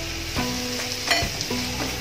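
Tomatoes sizzle and fry in a pan for moong usal, a steady close crackle broken by a few scraping stirs.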